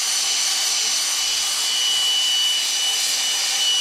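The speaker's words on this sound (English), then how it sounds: "I'm gonna sand this part and push the drill here" Power drill spinning sandpaper against a turned golden chain gives a steady, close, bright abrasive hiss and whine that holds constant without breaks.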